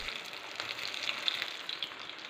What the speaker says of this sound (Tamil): பார்த்தீங்கன்னா நல்ல ஏர் பபிள்ஸோட சூப்பராக ஃப்ரை ஆகிட்டு இருக்குது.